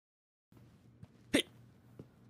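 A small, quiet hiccup-like sound pops once, loud and sharp in the middle, with a couple of softer clicks around it in a quiet indoor setting.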